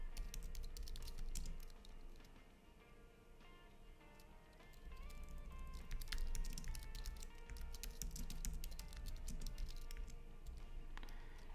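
Rapid, uneven keystrokes clatter on a computer keyboard as Python import statements are typed, close and continuous, over a faint background hum with no talk.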